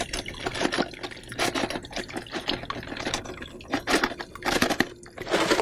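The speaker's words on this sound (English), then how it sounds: "we're going to fill this sink up with hot water" Hot water runs into a sink being filled for cleaning an electronic air cleaner, a steady rushing pour with irregular splashing bursts that stays fairly loud throughout.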